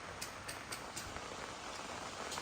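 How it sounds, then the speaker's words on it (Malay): Heavy tropical rain pouring down outside a homestay during electrical wiring work: a steady, faint, even hiss of rainfall with scattered sharper drop taps, and no voices. "Hujan lebat telah kembali mencurah bumi."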